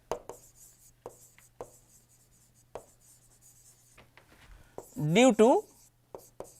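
Chalk or marker taps and scratches on a board in short, sparse strokes during a lecture, with a brief burst of speech partway through.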